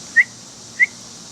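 Two short, clear whistled notes, evenly spaced about half a second apart, sound close by with no talk as a person whistles to an abandoned baby bird being hand-fed.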